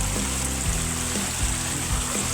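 Water rushes strongly through a repaired garden hose out in farm fields, a loud, continuous close gushing with no voices.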